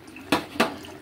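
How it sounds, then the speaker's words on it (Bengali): Cornflour slurry poured from a bowl into a pot of chicken stew, two short splashy pours close by, each a brief wet gush over a quiet kitchen background. "এই কর্নফ্লাওয়ার গোলা জলটা আমি এবার এতে দিয়ে দেবো।"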